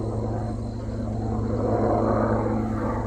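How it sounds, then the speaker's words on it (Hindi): A helicopter passes overhead above a forest, giving a steady throbbing rotor drone with a low, pulsing engine rumble that grows slightly louder partway through. "ये आवाज़ ऊपर से जब हेलीकॉप्टर की आई"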